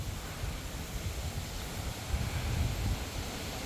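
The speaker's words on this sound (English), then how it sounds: "Nice and windy out." Wind buffets the microphone outdoors in a low, gusty rumble with a steady hiss, swelling briefly toward the end.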